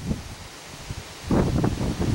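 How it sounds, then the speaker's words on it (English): Wind blows outdoors in the Catskills, Sullivan County, New York, rumbling and buffeting the microphone in gusts that grow stronger midway, with rustling close by. "It's a little windy out right now."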